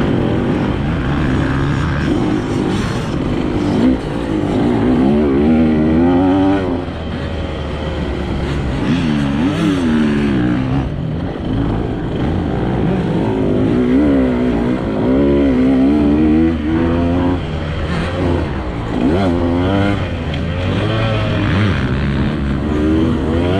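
A 2025 KTM 150 XC-W two-stroke dirt bike on a demo ride, its engine buzzing loud and close throughout, with repeated rising and falling revs as the rider works the throttle.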